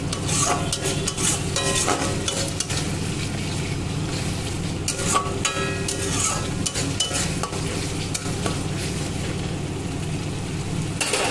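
Katla kalia masala sizzles in hot oil in a pan, with continuous frying crackle and steady stirring scrapes, close and moderately loud, with no talking.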